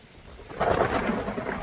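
A thunderstorm with wind and rain swells into a deep, rolling rumble that holds steady over a constant wash of rain, loud and close with no voices.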